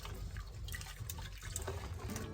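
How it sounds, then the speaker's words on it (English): Water running and splashing as something is rinsed out at a sink or tap, steady liquid sound with small drips, close and fairly quiet throughout. "just rinse this out"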